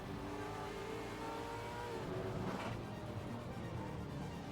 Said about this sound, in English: Oh, the sounds of those cars.